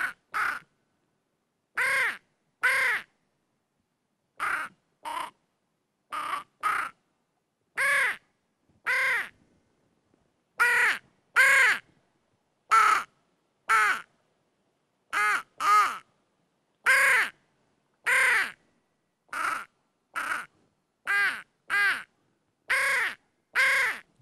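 A duck decoy call blown to imitate the caws of a hooded crow gives a long series of harsh, rasping caws, mostly in pairs and short clusters with silent gaps between them, loud and close.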